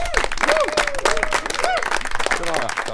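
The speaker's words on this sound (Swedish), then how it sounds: "applåd nu för Robert!" Lively applause and cheering from a student TV studio audience greet a guest named Robert, with excited voices and whoops riding over the clapping.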